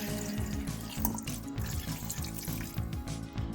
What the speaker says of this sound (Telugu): ఆ రసం మొత్తం జాడీలో పోసుకోండి